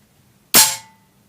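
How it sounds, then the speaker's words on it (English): A Weihrauch HW99S air rifle fires a single sharp, loud crack through a chronograph at close range, followed by a brief fading metallic ring, with no voices. "So we'll do a string of 10 shots, and then we'll get the average from that and work out what the average power output is of the gun."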